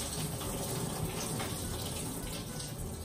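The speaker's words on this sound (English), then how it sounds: "Now watch me pour this water out" Water poured out of a container, a steady, fairly quiet splashing gush that runs continuously throughout without talk.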